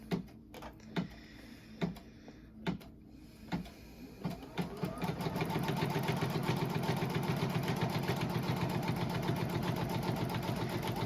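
A sewing machine stitching the tack-down seam along each side of a snow globe wall hanging, beginning with a few separate clacks and then running in a steady, rapid, mechanical rattle that stays close and loud with no talking.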